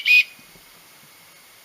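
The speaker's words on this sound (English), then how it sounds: "it's just a hard plastic, and it's got a whistle." A whistle built into a hard plastic knife sheath gives one short, loud, shrill blast close up, then quiet.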